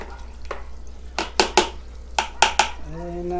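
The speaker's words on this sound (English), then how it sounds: "I'm gonna give it another stir. Make sure we're stirring it up right." Compost tea mixture being stirred in a container, a series of six or seven sharp, ringing knocks and scrapes in uneven bursts, with a low hum underneath and a faint tonal sound at the close.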